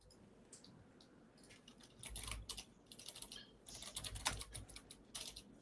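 Fingers type on a computer keyboard in quick, irregular bursts of clicking keys, close by and fairly soft, with short pauses between runs.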